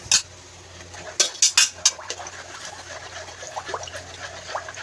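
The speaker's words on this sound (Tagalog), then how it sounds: "Mix lang natin guys, mix." Buko pandan mixture with cheese cubes being stirred in a bowl: a few sharp utensil clinks against the bowl come in quick succession, followed by soft wet stirring and scraping.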